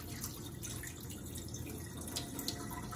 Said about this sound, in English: And that's just gonna rinse out the salt that did not get absorbed by our greens.